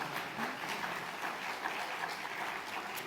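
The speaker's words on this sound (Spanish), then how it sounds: "Que para la gloria de Dios sea este aplauso." A church congregation applauds during a Sunday sermon, a steady, dense wash of many hands clapping together for about three seconds, evenly sustained and somewhat distant, with no voices rising above it.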